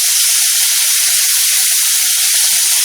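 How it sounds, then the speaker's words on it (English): A marinated ribeye steak, straight from the marinade and not patted dry, sizzles loudly and steadily in a hot skillet, a dense continuous hiss with occasional pops and no voices. "Into the skillet she goes."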